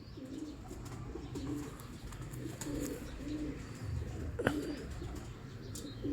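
Pigeons cooing repeatedly in a loft of old-style fancy show pigeons, soft low coos recurring at a steady pace over faint chirps and background rustle, no one speaking.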